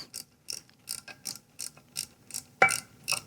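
Torque wrench ratcheting on a bolt of a Tillotson 225cc engine, about ten evenly spaced clicks in a steady rhythm, close and crisp, one louder snap near the end.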